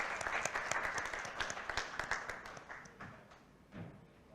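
Audience applause for a speaker at a wealth summit panel, fairly dense clapping that thins and fades over a few seconds, with a few stray thuds near the end.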